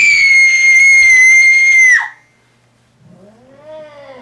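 A shrill, sustained scream rings out for about two seconds and cuts off sharply, then after a short silence a softer, wavering wail rises and falls.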